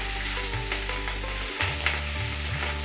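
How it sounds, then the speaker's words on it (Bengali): An egg fries under a lid in a pan, giving a continuous muffled sizzle with soft crackles, while a low steady hum runs underneath throughout. "আমি ঢাকা দিয়ে ডিমটা ভেজে নিই।"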